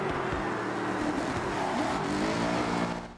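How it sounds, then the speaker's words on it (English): Car engine from the racing video game Forza Horizon 6, a loud steady drone with a rising rev throughout, no voices over it, fading at the very end. "this is exactly what the car sounds like"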